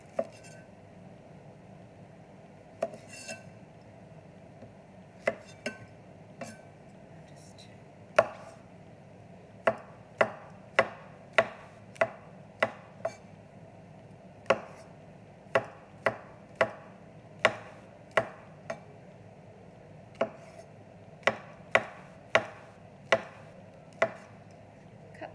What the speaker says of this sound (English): So I'm going to just cut up the button mushrooms.